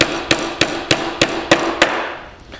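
Hammer blows drive nails into a wooden beehive telescoping lid, six sharp evenly spaced strikes close by on a workbench, each ringing briefly before the next, with no talking.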